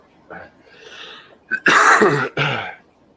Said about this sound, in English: I still got this nasty cough in the back of my throat